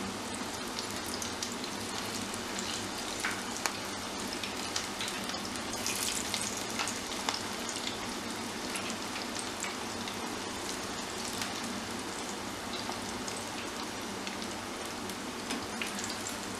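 Pakora batter sizzling steadily in hot oil, a continuous crackling hiss with small pops, close and even throughout with no talking.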